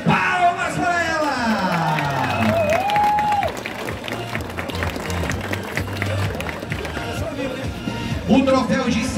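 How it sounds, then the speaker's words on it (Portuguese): A crowd applauds and cheers a third-place women's podium finisher at the 2023 Toyota Empilhadeiras running race in Artur Nogueira, with steady clapping that swells near the end while an announcer talks over it through a loudspeaker. "Palmas para ela!"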